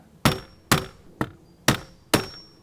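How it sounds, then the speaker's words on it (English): Metal nail set struck with a hammer to punch centre marks through a storm door template for an Andersen 400 Series storm door: five sharp, close taps at a steady rhythm, with nothing else under them. "I have a nail set, and I'm just gonna go right in the center and give it a little tap"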